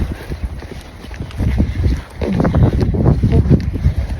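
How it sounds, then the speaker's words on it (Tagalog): Strong outdoor wind buffets the microphone on a hot, gusty day, giving loud, irregular low-frequency rumbles and thumps that come in bursts and build louder partway through. "Mainit yung araw pero mahangin."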